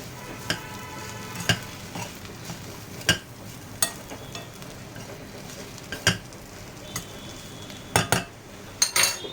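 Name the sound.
frying leftover chapati pieces in tempering until crispy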